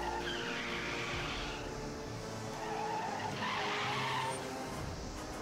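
Car skidding effects from the Pinball FX3 Alien video game on Switch form a continuous, fairly quiet tire squeal and engine wash lasting several seconds, with no one talking over it.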